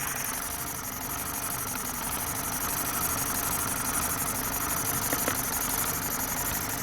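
A car engine idles steadily up close with a rough, uneven knocking pulse from a misfiring fourth cylinder running through its low rumble.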